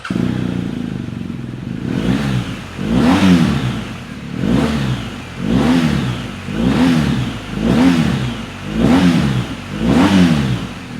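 A BMW R1250 GSA motorcycle fitted with a DB killer in its exhaust is revved repeatedly, about seven loud, close, evenly spaced bursts rising and falling over a steady idle, with no talking.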